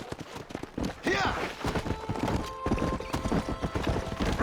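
A horse gallops in the Red Dead Redemption 2 video game with rapid, close, rhythmic hoofbeats running continuously, a whinny early on, and voices talking over the ride.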